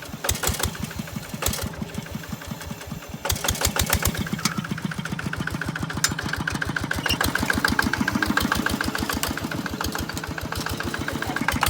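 A small tractor engine runs with a disc plough lifting cassava, chugging steadily in a fast, regular rhythm that is close, loud and continuous throughout, with no talking.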